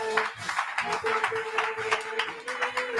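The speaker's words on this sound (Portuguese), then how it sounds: "Aplausos a Jesus." A church congregation claps to Jesus in an evangelical worship service, loose rhythmic clapping mixed with voices and a sustained organ-like tone underneath.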